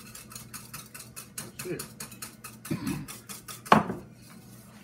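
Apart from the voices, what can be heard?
mixing banana cream pie pudding in a pot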